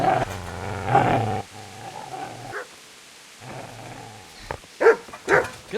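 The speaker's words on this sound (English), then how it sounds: "Get away, you mutt!" A dog in Kingdom Come: Deliverance barks and growls in a few loud, close bursts separated by quiet gaps, with yips and snarls toward the end and no talking over it.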